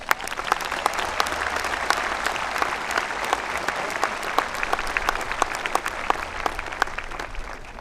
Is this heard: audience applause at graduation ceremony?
yes